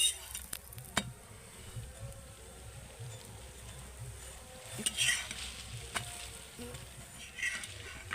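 Lachha paratha made with leftover rice frying in oil on a pan, giving a steady soft sizzle throughout with a few brief clinks and scrapes, close and moderately quiet.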